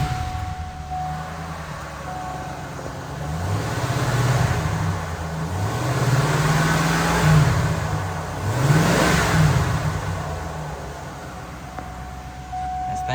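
A car's engine runs at idle and is revved several times in a wavering, throaty rhythm. The sound rises and falls steadily at close range, with no talk over it.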